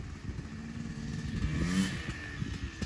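A 1990s Honda Pilot FL400 off-road buggy engine revs up under throttle, a loud near rumble swelling midway with some clatter, steady throughout the short burst.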